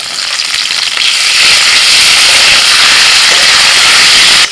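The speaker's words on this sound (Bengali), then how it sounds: "সবজিগুলো কিছুক্ষণ ভেজে নিয়ে দিয়ে দিচ্ছি আদা কাঁচা লঙ্কা বাটা" Mixed vegetables sizzle hard in a pan with ginger and green chilli paste. The frying hiss is loud, dense and continuous, with no voices over it.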